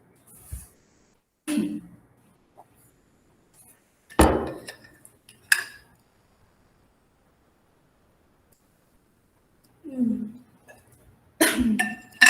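Several separate coughs break a quiet room, spaced out over several seconds, with small clinks and knocks between them.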